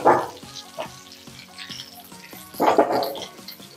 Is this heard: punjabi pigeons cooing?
no